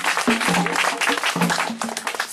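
A church congregation claps steadily and densely throughout, a full, close wash of applause with some voices mixed in.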